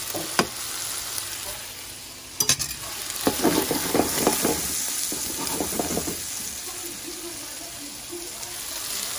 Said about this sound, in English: A little more of that citrus butter into the pan.